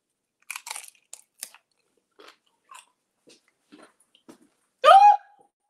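Crunching bites of tortilla chips dipped in low-carb guacamole, a scatter of close, sharp crunches and chewing over several seconds, ending in a louder burst of sound.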